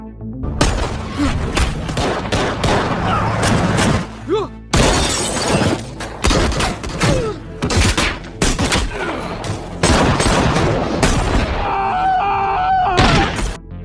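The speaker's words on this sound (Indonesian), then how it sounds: "geng Jarod pun muncul, sehingga baku tembak sengit tidak bisa lagi dihindari" An intense shootout between gangs in an action film, with bursts of loud gunfire, shattering impacts and booms arriving in clusters separated by brief lulls, mixed with dramatic effects and score.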